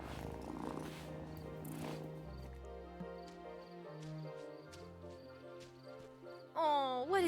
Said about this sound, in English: Oh, what a good purr.